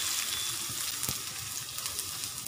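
Finely chopped onions frying in a pan of hot oil with green chilies give a dense, continuous crackling sizzle. It sounds close and steady, with a few sharper pops and no voices.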